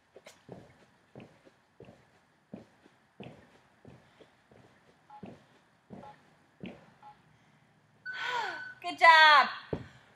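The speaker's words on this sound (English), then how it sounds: "Breathing." Heavy, rhythmic panting after a fitness test exercise, close and steady at about one breath per second, ending in a few louder gasps or sighs like a voice straining.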